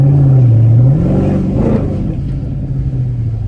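A Mercedes-Benz ML63 AMG engine revs up loudly, its pitch rising and dipping, then settles into a deep, steady rumble close by.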